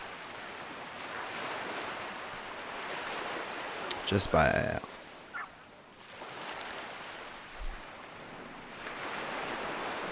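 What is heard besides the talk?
ocean waves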